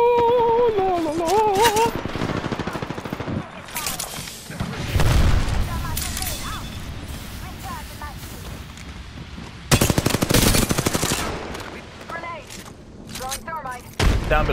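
Gunfire from the video game Apex Legends, with bursts of shots and booming impacts recurring throughout, loud and close, alongside in-game sound effects and talk.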